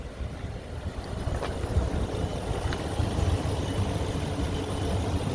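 A 2013 Ford E350 4x4 lifted conversion van idles with a steady, smooth low rumble that holds even and unbroken throughout.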